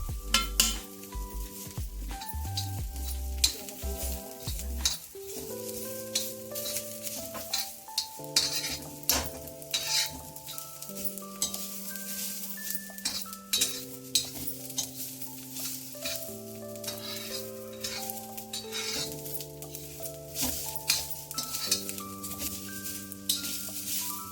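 Sesame seeds roasting and being stirred in a pan, a soft sizzle with scraping and utensil clinks beneath prominent background music throughout.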